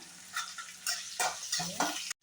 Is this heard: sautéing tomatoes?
yes